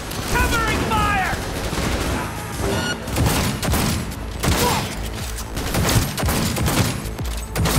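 Covering gunfire in the video game Cyberpunk 2077, dense bursts of automatic fire and shots rattling close and loud across the scene, with shouted voices mixed in.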